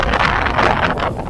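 Steady breeze buffeting a microphone at night from a moving car on a journey toward Bogor, a continuous broadband rush with gusty swells, fairly loud and close, with no talk.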